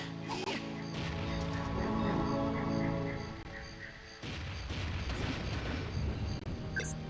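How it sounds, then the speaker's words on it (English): A cluster bomb goes off in the sci-fi shooter Jet Force Gemini. A dense rumbling blast rolls for several seconds, then a second sharp burst hits and crackles away. "Get a load of the cluster bomb."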